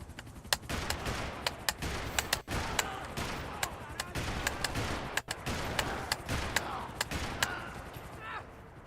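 Rapid bursts of gunfire from a first-person shooter video game, sharp repeated shots with brief pauses, fairly loud against a busy background of game sound and voices.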